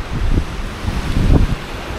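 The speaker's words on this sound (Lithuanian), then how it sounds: "Šiandien vėjas, jūra tokia nerami banguoja." Rough, choppy sea waves and strong wind hit a beach at Krynica Morska, heard as close, gusty rumbling buffets with low surging swells and heavy wind noise on the microphone.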